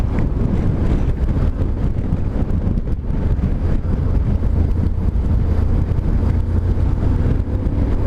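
Strong wind buffeting a microphone on a motorcycle ride under darkening clouds, a loud continuous low roar with constant rumbling gusts and engine and road noise blended in, no speech.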